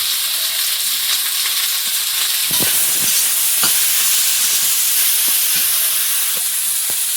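Tomato and green chilli frying in a pan with onion, ginger and garlic for a Sundarban home-style fish tail curry, a steady close sizzle with occasional stirring clicks and scrapes throughout.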